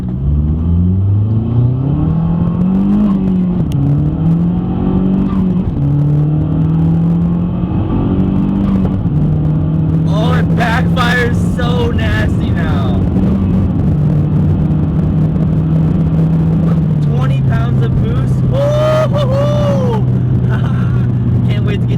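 A turbocharged Mazdaspeed3 makes a full-throttle pull: the engine's loud, close drone climbs steadily in pitch through the gear, then drops after a shift and rises again, with turbo whooshes and blow-off hisses near the end.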